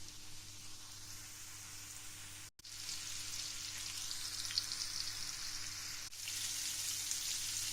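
Sliced carrots and mushrooms fry in a pan, a soft steady sizzle with faint crackle, briefly cut off near the start and again later before resuming.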